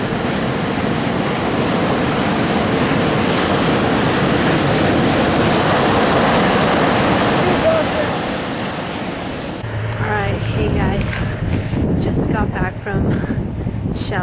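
Ocean surf washes steadily at Shell Beach near Bodega Bay, a broad continuous roar blended with wind buffeting the microphone, easing slightly in the last seconds as voices talk over it.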